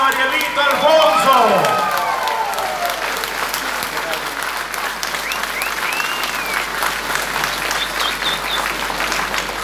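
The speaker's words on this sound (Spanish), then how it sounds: "ese aplauso que llega hasta el cielo" Sustained audience applause and cheering at a live outdoor-style music show, a dense steady wash of clapping that persists throughout, with a voice speaking over it at the start.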